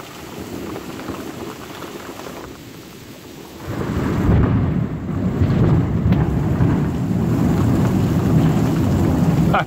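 Heavy rain hisses steadily, then a deep rumble of thunder swells and lingers, with the downpour growing louder and continuing to the end.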